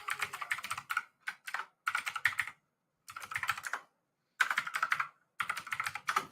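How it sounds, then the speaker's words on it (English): Bursts of rapid typing on a computer keyboard, close and clear, in several clusters separated by short pauses, with no talking. "Too bad nobody can hear me typing."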